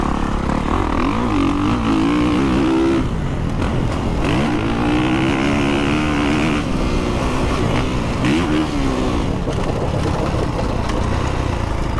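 Motocross bike engine in the racing game MASTERCLASS Motocross 3, loud and continuous, climbing and falling in pitch as the rider revs and shifts through a lap, with no voice over it.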